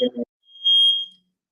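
A smoke alarm, set off by burning incense in a room, gives one short, shrill electronic beep right after a brief spoken word.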